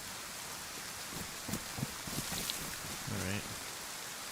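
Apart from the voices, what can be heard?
rain in the video game DayZ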